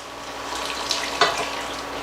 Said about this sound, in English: now I'm just going to add the rest of my broth